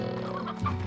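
Hens clucking in the video game Slime Rancher, a brief burst of low, clustered clucks over a steady tonal backdrop of game music, close and moderately loud with no talking.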